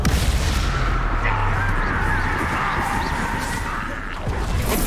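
A Confringo fire spell blast in Hogwarts Legacy, a dense, roaring burst of booming energy that sustains loudly for several seconds over a rumbling, crackling bed.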